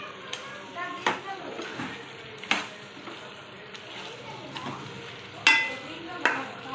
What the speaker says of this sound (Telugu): యాడ్ చేసుకున్న తర్వాత మళ్ళీ ఒకసారి అదంతా మిక్స్ చేసుకొని